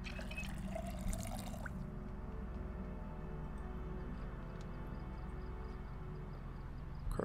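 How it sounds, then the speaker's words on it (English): Running water filling a water bottle in Project Zomboid, a steady close pouring and trickling flow that continues throughout at an even level, with no talk. "Fill up our water bottle."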